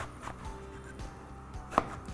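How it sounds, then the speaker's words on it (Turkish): A knife chops through eggplant on a cutting board, a few soft thuds and one sharper knock, close up with a faint hum behind. "Diğer patlıcanı da doğrayayım."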